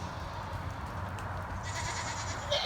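Goats on a homestead bleating from their goat houses, a couple of short calls rising over a steady low background rumble, moderately close.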